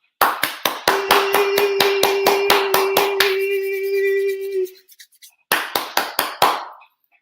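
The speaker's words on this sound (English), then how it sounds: "Clap it up for the album." Sharp, evenly spaced hand claps ring out in a fast steady rhythm over a held musical tone, pause briefly, then resume for a few more claps.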